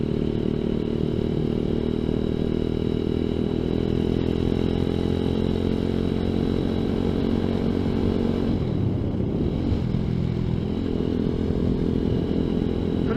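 A ZS190 Grom clone motorcycle rides steadily on a highway, its engine droning loud and continuous with a brief dip in pitch partway through, no voices over it.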